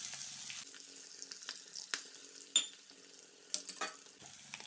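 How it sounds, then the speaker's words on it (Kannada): Grated amla is added to a pan with fried chillies and stirred, giving a quiet, sparse sizzle with scattered light spoon taps and scrapes close by. "ಈಗ ನಾನು ತುರಿದಿಟ್ಕೊಂಡಂಥ ಆಮ್ಲ ಹಾಕ್ಕೊಳ್ತೇನೆ."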